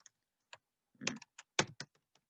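Scattered keystrokes on a computer keyboard while entering HTML and CSS text, a few quick taps followed by a louder cluster of presses, close and clear with long quiet gaps between them.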